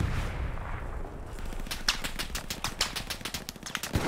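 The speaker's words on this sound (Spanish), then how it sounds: "Me está disparando." Rapid automatic gunfire in Hell Let Loose, a fast even burst of sharp shots running for several seconds after a rumbling start, close and loud.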